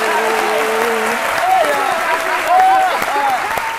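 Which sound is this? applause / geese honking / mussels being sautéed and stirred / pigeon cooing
applause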